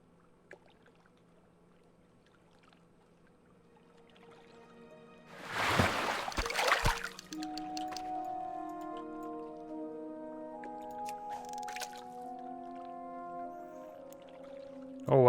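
Fishing in World of Warcraft Classic: a quiet bed of ambient music, then a sharp watery splash as the line is cast, followed by soft bobbing ripples under sustained game tones.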